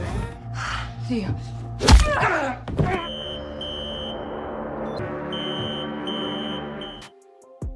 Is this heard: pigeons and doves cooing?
no